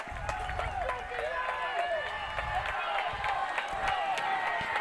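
A crowd cheers and roars at a high school football game between Immaculata and Peddie, a steady loud swell that runs under an announcer's continuous play-by-play.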